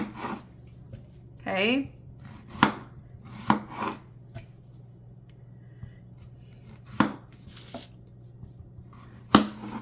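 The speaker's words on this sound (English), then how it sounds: "What I do with my tomatoes, I just cut them in half." A knife cuts tomatoes in half on a board, producing sharp isolated chops spaced a second or two apart over a low background hum, with a brief squish and a short spoken word.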